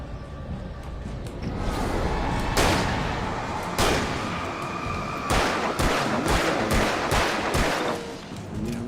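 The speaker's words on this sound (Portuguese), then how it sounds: "Acho que eu vou dar um tiro de 12 na cara dele." Loud, booming shotgun blasts ring out one after another amid a noisy video game soundscape, with several blasts clustered toward the end.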